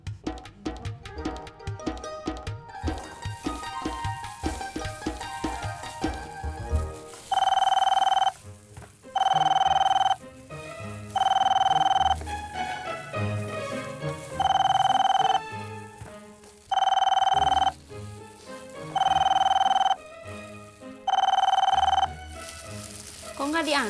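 Repeated telephone bell rings, seven loud bursts in regular rhythm, sound in a home kitchen where someone is baking cakes; sizzling and background voices run underneath between rings.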